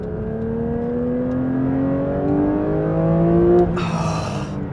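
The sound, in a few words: Porsche 911 S/T engine revving high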